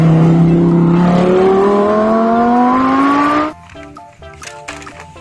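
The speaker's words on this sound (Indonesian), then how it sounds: "Mobil balap supercar." A toy supercar race car revs loudly and alone, its engine pitch climbing steadily for about three and a half seconds before stopping abruptly into quieter background sounds.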